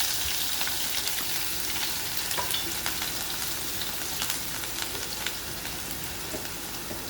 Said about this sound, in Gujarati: રાઈ અને જીરું નાખી લીલા મરચાં નાખી દેવાના.